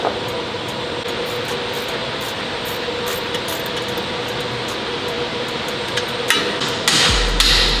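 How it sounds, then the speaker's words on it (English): Light hammer taps on the edge of a car control arm during a suspension install on a Subaru BRZ, steady quiet metallic tapping in a garage with a louder burst of strikes near the end, no talking. "Hit the very edge of it, just give it some love taps."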